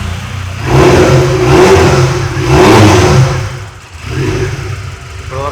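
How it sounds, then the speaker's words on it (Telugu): A QJ Motors Turismo SRC 250 sport bike engine revs loudly and close up in three rising surges, easing back toward idle between them, with no talk. "సో క్యూజియా మోటార్ల బైక్ సౌండ్ కూడా చాలా యూనిక్గా ఉంది"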